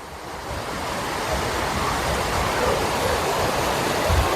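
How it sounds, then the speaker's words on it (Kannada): Fast river water rushing at an eco park in Dandeli, a steady loud broadband roar that fills the whole clip without pause. "ನೀರು ತುಂಬಾನೇ ಸ್ಪೀಡಾಗಿ ಹೋಗ್ತಾ ಇದೆ"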